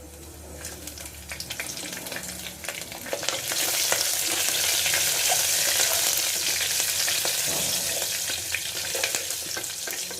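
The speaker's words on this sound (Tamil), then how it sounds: "இப்போ இந்த எண்ணெய் சுட்ட உடனே இது எல்லாத்தையுமே போட்டு ஒரு ஃப்ரை பண்ண போறோம்." Whole spices and five green chillies hit hot oil in a cooker for aloo biryani, a quiet stir at first, then a loud, steady hiss of frying that swells and gradually eases, close up, with no talking.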